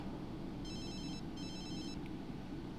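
A phone in The Sims 3 rings in two electronic bursts over a low background hum. The ringing is faint and steady and no one speaks.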